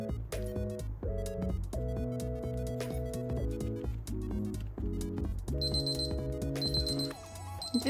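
A kitchen timer alarm rings for about fifteen seconds, playing a repeating electronic melody of short beeping phrases that continue steadily and alone.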